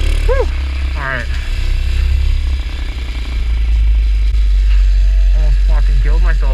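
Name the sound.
dirt bike engine while riding uphill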